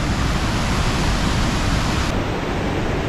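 Mallali Falls waterfall roars as a loud, dense, unbroken rush of falling water heard up close, filling the whole scene with steady broadband noise.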